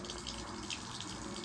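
Water runs steadily from a household tap, a continuous close hiss and splash with no breaks and no voices over it.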